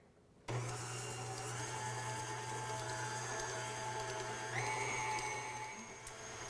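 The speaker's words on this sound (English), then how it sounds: "I'm going to turn the mixer on and let this cream" Electric mixer creaming peanut butter and brown sugar, starting abruptly and running as a steady whirring drone with a slight shift in pitch partway through.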